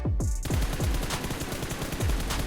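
Automatic gunfire in PUBG Mobile while aiming down sights: a steady, rapid string of loud shots with deep thumps and bright cracks, continuous and without speech.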